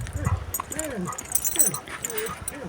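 A dog whimpers and yips in short, rising cries close by, with people talking over and around it.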